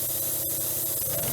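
Compressed air hisses steadily out of the cooling system of an old Caterpillar loader that had sat dead for over a year, a loud close broadband rush with a brief sharper burst partway through.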